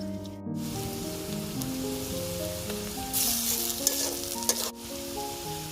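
Garlic frying in oil in a kadai with onion and cloves, a constant close sizzle with a brief surge and a few stirring clicks, and no one speaking.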